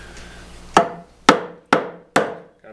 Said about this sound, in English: setting the edge with the chisel, and then I'm going to cut down in